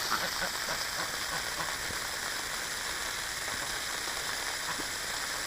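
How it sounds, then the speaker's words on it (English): A garden hose sprays water onto ducks on a hot day, making a steady, close hiss of spray like rain pattering on a surface, with a voice faintly underneath. "It's a total waste of time spraying them"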